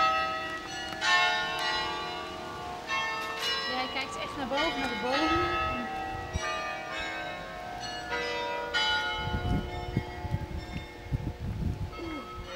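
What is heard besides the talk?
bells ringing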